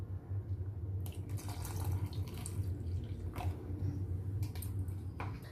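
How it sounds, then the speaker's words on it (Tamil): Milk poured from a tumbler into a cooking pot of rice for akkaravadisal gives a steady liquid splashing and gurgling, fairly close and continuous for several seconds with no voices. "இன்னொரு டம்ளர் பால் அதுல விடுறேன்."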